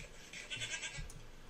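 Goat bleating in a blocky survival video game, a short faint nasal bleat or two in a quiet setting.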